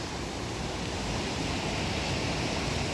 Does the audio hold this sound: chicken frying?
no